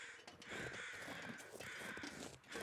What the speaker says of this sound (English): Ooh, weather change crows.